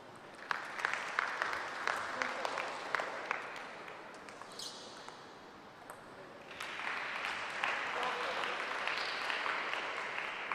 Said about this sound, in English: Every point you can hear the teammates of Red Swastika cheering them on